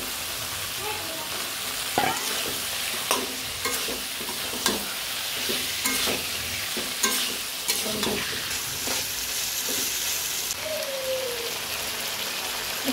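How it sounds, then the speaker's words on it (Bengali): Chicken pieces hit a pan of cooked-down spice paste for chicken khichuri, sizzling loudly and continuously while a spoon scrapes and stirs in repeated strokes, close up. "মশলা কষানো হয়ে গেছে, এখন দিয়ে দেব মাংসগুলো।"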